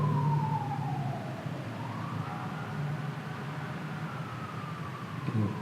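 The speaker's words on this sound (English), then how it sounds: "There's sirens." A siren wails at Fort MacArthur, its pitch sliding down and then rising again in a long sweep, clearly audible at moderate distance over a low background rumble, with no talking.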